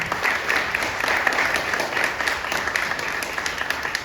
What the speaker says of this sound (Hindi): ताली बजा दी